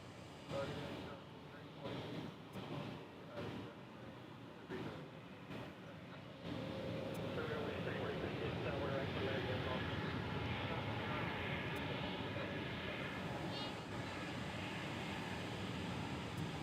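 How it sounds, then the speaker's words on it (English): An Airbus A320neo takes off at Dallas Fort Worth International Airport, its engine roar swelling abruptly and then holding as a loud, broad, steady rush. Fainter choppy sounds and voices come before it. "after this A320neo takes off"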